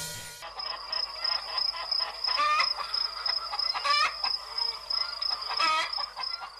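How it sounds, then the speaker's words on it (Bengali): Many chickens in a poultry coop cluck and squawk continuously up close, with repeated sharp calls and a few louder rising cries over a steady high-pitched electronic tone. "ওই তো কত মুরগি"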